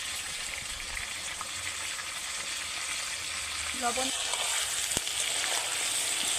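Pointed gourd pieces with turmeric powder fry steadily in a pan over medium heat, a continuous close sizzle throughout, with a voice speaking briefly partway through.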